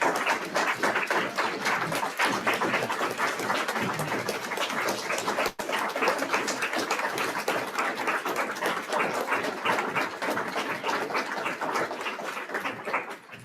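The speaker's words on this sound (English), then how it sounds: "how about a final round of applause for our 4 recipients?" Steady audience applause at a Rotary Club service-celebration meeting, honoring four award recipients; continuous dense clapping throughout, fairly close and even, with no talking over it.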